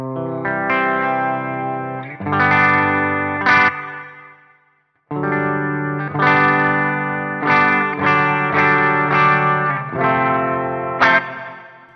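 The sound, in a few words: guitar through Meris Mercury X reverb pedal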